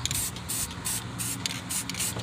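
Spray paint cans hissing onto a truck cooling fan blade for a K1500, short rhythmic bursts of spray separated by brief pauses, close and fairly loud, no voices.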